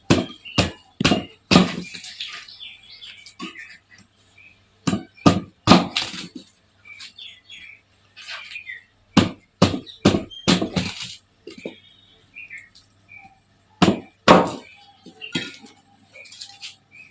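A valli kizhangu tuber is chopped into small pieces, with sharp knife strikes landing in quick bursts of three or four, separated by quieter gaps, close by with no talking.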